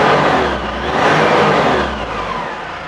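A 2012 Ford Everest XLT 4x4 with manual transmission idles and revs, its engine giving a loud, close, steady drone that swells slightly and then eases off, with no talking.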